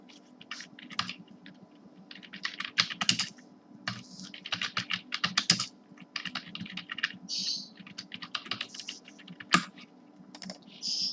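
Fingers typing on a computer keyboard, rapid irregular bursts of close, crisp key clicks with brief pauses, set against a faint steady background hum.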